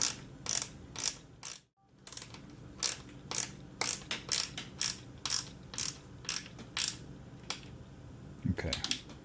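A screw is driven down by hand into a pinball kit, giving a steady run of short ratcheting clicks, close and fairly loud, with a brief pause partway through.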